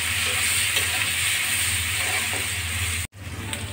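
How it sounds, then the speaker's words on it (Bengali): Chopped onions fry in a pan for chicken kosha, giving a steady, close hiss of sizzling oil that runs throughout and cuts out briefly near the end. "কুচিয়ে ভাজি করে নিচ্ছি।"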